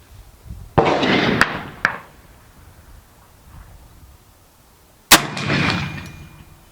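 Two sharp, loud rifle shots from an 1873 model rifle fired outdoors, each followed by a rumbling echo and separated by a few seconds of quiet.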